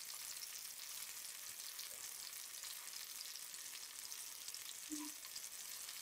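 Chicken leg pieces fry in hot oil and are turned with two ladles. A steady, soft, close sizzle continues throughout, with a faint metal clink near the end.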